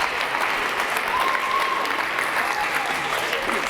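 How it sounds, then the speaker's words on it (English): An audience breaks into sustained, even applause, a full wash of many hands clapping at steady volume, with a faint tonal whistle drifting through the middle. "if you could please give her a rousing round of applause"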